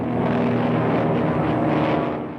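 A propeller airplane from a 1937 film serial drones steadily and loudly, a continuous throbbing engine roar that fades slightly at the very end.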